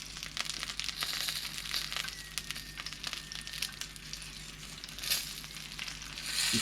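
Shishito peppers char in a hot pan with a close, steady sizzle, broken by sharp crackles and pops as the skins burst.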